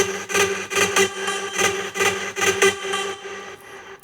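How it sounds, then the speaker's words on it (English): Big room EDM drop built around a punchy synth shot sample, loud bright stabs hitting in a steady quarter-beat rhythm over a sustained chord bed, close and full, thinning out at the very end. "This is also like a synth shot."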